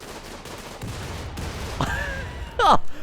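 Scattered gunfire in the colony game Rimworld pops in a few short bursts at moderate volume, followed by a sharp squealing cry near the end.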